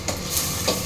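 Capsicum and onion fry gently in a pan over a low flame for gobi manchurian, giving a soft steady sizzle with a couple of faint stirring scrapes, close and continuous.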